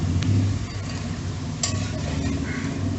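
Murukku (mullu thenkuzhal) dough frying in hot oil on a gas flame, a steady dense sizzle and bubbling that runs without pause at a moderate level, close by.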